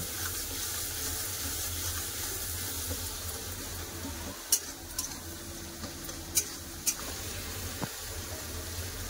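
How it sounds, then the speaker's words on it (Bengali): Ground cumin, turmeric and chili powder fry in oil in a pan for a rohu fish curry, a steady close sizzle broken by a few sharp clinks of a stirring utensil. "এবার সব মশলা দিয়ে ভালো করে কষে নেব।"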